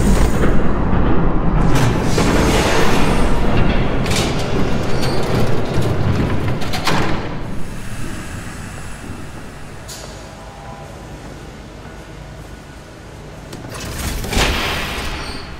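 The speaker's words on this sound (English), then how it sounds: "There's a train coming." A train rumbles past in Batman: The Telltale Series, a loud broad roar that stays heavy for several seconds, fades into a lower rolling hum, then swells slightly again near the end.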